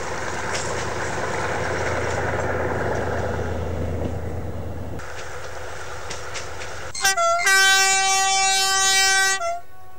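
A Picasso X-3800 tourist railcar runs along a line limited to 30 km/h. An engine drones and rumbles up close, then drops away, and a loud two-tone horn sounds in a few sustained blasts.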